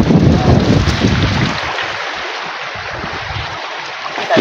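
Strong wind buffets the microphone in loud, continuous rushing gusts, heaviest at the start and easing slightly, with no talk.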